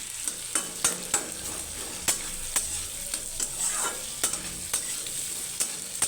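Onions fry in a pan for lau chingri, prawns with bottle gourd, under a continuous soft sizzle broken by regular sharp scrapes and taps of a spatula against the pan.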